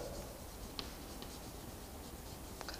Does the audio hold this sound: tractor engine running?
no